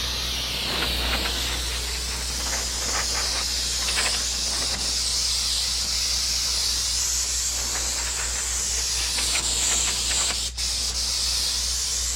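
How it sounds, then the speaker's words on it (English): Continuous close hiss of carb or brake cleaner sprayed onto a 2003 Buick Park Avenue transmission during a fluid change, with slight surges in the spray and no talking. "And then some carb cleaner or brake clean."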